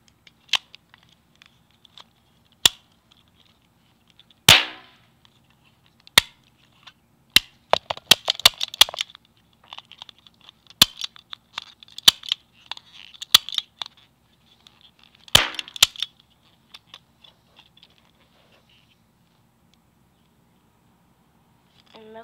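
A cap gun loaded with hot gunpowder caps fires sharp, close cracks, first single shots spaced seconds apart and then clustered bursts, with small rattles and clicks between shots and silence in the gaps.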